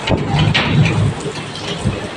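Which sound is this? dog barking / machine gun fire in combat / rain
rain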